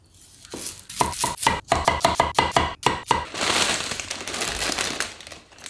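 Hatch green chili chopped on a cutting board for lamb pozole verde, a fast, even series of sharp knife knocks followed by rustling and scraping, close and alone.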